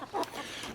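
Backyard chickens give a brief, soft cluck or two, close by against a faint rustling background.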